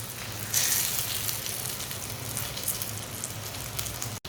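Food sizzles and fries steadily in a hot pan during a quick breakfast recipe, a constant close crackle with brief brighter spatters and no speech.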